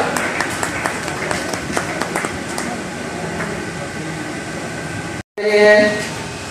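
An audience at a literary forum and awards event in Faisalabad claps for a guest of honour, a dense patter of many hands that fades out, followed by a brief silence and a burst of other sound.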